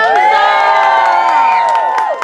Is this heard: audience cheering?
yes